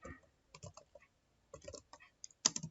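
Someone types on a computer keyboard in short bursts of close, crisp key clicks separated by brief pauses, ending with a sharper pair of louder keystrokes.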